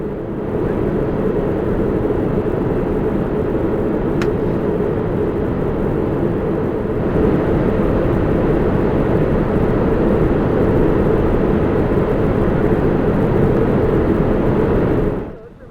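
Engines of an Air Canada Boeing 787-8 Dreamliner in flight from Calgary to Toronto give a steady, even cabin drone. It is smooth and continuous, with a faint click partway through.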